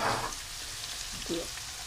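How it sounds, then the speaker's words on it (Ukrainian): Meat fries in a pan with a steady close sizzle and crackle, interrupted by a couple of brief scraping or stirring touches. "М'ясо жариться."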